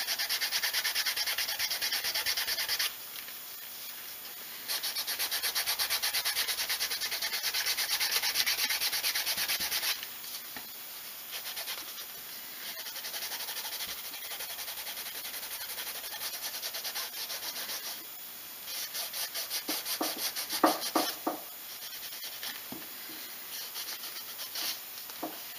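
The dyed edge of a handmade leather wallet is burnished with a continuous dry rubbing and friction hiss, steady and close, changing intensity in sections as strokes speed up near the end.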